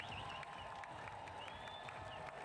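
A packed crowd at the IRONMAN European Championship finish line in Frankfurt claps and cheers steadily, a dense wash of applause with voices mixed in, heard faintly from a short distance.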